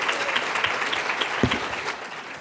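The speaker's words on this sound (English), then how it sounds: "Give poetry a round of applause," A conference audience in a hall gives a round of applause for a poetry reading, steady dense clapping with one thumping close clap midway, tapering slightly at the end.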